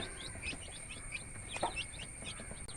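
Many small chicks, nine in all, cheep in quick, high, overlapping peeps, a steady busy chorus close by with no talking.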